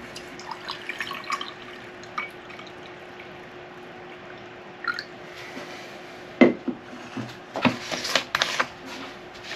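Fresh XTOL film developer stock solution being poured into a container, quiet splashy trickling and dripping with a few sharper knocks, growing more active toward the end.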